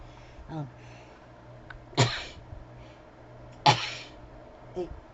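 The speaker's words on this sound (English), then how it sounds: "Excuse me if I sneezed." Two sharp, explosive sneezes close to the microphone, a couple of seconds apart, with softer throat noises before and after.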